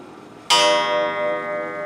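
A restored German mechanical clock sounds a single bright chime partway through, its metallic ring sustaining and slowly decaying close by after a quiet start.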